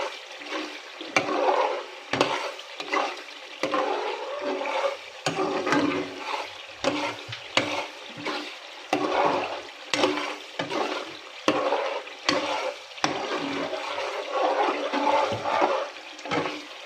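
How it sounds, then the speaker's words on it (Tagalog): Oil fries in a pan while a utensil stirs it, giving uneven sizzling bursts with scraping strokes that come and go over a busy, fairly quiet background. "Kailangan po laging hinahalo para pantay yung pagkaluto."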